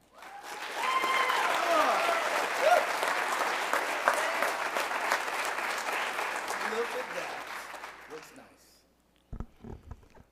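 Sustained applause from an audience at a spring ROTC commissioning ceremony, dense and steady for about eight seconds before tapering off, followed by a few faint scattered sounds near the end.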